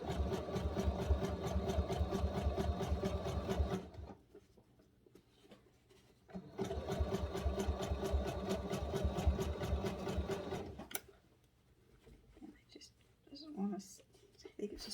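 A sewing machine stitching denim from a pair of jeans runs in two steady bursts of rapid stitching, pausing between them, with soft handling noises and quiet whispering in the gaps.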